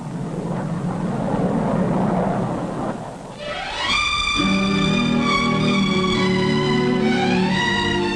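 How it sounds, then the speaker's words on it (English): A 1958 passenger jet clipper airliner, the first to fly the Atlantic, gives a loud broadband roar that dips briefly, then swells again with a steady, piercing high whine layered over the rumble. "The first passenger jet clipper to fly the Atlantic."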